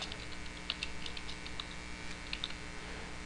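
Light, quick key clicks from a computer keyboard as text is typed into a GIS program, faint and scattered over a steady background hiss with no talking.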